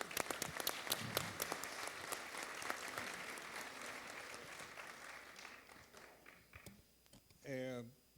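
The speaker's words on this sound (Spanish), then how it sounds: "Un aplauso, por favor" Applause from a panel audience at a talk, dense clapping for about six seconds that thins out near the end, followed by a brief voice.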